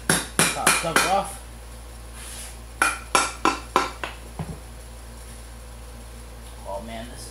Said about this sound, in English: Just gotta grab a hammer here to pop the cover off.